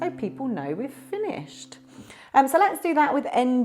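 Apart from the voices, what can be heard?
No distinct noise like a dog, phone or traffic.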